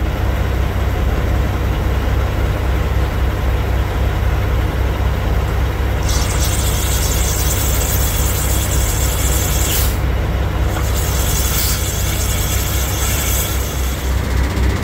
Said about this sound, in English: I heard some air coming out of there and it bubbling.